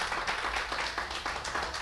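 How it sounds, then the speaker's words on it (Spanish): A church congregation claps for the Lord during worship, a dense, steady wash of applause pulsing in rough waves throughout, moderately loud, with no clear talk over it. "denle una ofrenda de palmas al Señor"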